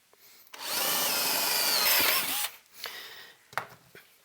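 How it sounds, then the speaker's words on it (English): A power drill bores mounting holes into a tube amplifier chassis, running as a loud, steady whine for about two seconds before stopping, followed by a few short clicks and handling knocks. "Just let the drill bit do the work."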